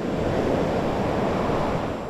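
Rough sea on the Ierapetra seafront, whipped by a strong southeast wind, makes a steady, loud roar of surf and wind noise with no distinct breaks, continuous and close throughout.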